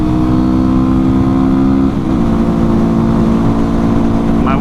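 A Yamaha WR250R dual-sport motorcycle engine drones loud and close, holding a steady high rev with a brief dip and surge partway through, with wind noise on a hilly road.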